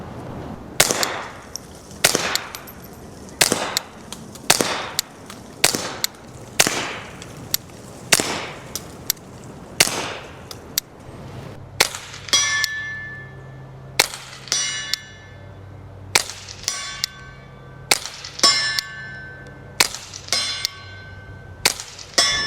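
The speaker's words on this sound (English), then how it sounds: "Since the barrel is threaded, we can also run this thing suppressed." A steady series of sharp, muffled pops from a suppressed Ruger Mark IV 22/45 Tactical .22 pistol, fired at a regular pace, each followed by a metallic clink.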